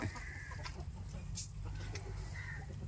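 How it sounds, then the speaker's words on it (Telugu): Chicks and chickens clucking softly at a distance, with a few brief sharper calls over a steady low background murmur. "ఇంకొన్ని చిన్న కోళ్ళు బయట తిరుగుతున్నాయి"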